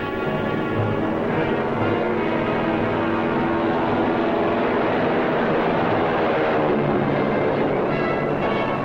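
A World War II bomber aircraft takes off from an island airstrip, its engines giving a steady, loud, droning roar that holds evenly throughout with no voices.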